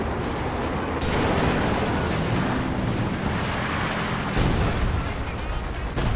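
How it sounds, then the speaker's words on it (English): Sustained British artillery barrage in Company of Heroes 2, a dense, continuous rumble of shell fire and explosions that swells louder after the first second and stays heavy throughout, with faint talk beneath. "So a bit of Brit artillery being called in here from one of his forward observer squads."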